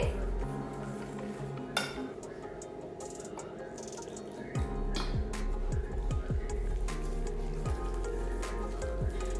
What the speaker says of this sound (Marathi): यामध्ये आता मी थोडं थोडं करून दूध ऍड करते